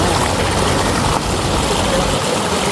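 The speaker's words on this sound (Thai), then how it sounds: "อันนี้เป็นวิวน้ำตก" A waterfall roars as a dense, continuous rush of falling water, loud and close throughout, with no voices over it.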